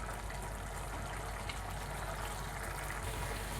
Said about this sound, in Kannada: ನೀರು ಹಾಕ್ಕೊತಾ ಇದ್ದೀನಿ ನಾನು